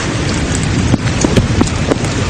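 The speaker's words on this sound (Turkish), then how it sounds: "Fırtına başladı. Yağmur da başladı." Steady rain falls outdoors as a thunderstorm begins, with dense continuous patter and several sharp nearby drop impacts, no voices over it.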